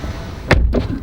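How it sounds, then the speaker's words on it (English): The door of a 2018 Porsche 911 GT2 RS being released from inside by its fabric pull loop, giving a single close, sharp unlatching clunk followed by a softer thud as the door swings open. "and then the door opens."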